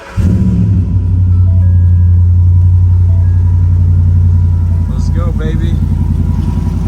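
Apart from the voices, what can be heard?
cold start of Roush supercharged Ford SVT Raptor engine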